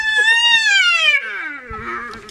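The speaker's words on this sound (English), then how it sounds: "And Jolly Roger is squealing? Yeah, squealing, trying to get the food from Cluse." A spotted hyena squeals loudly in a long, sliding high-pitched cry that falls and fades, with scuffling at the end, while fighting over a topi carcass in a tug-of-war.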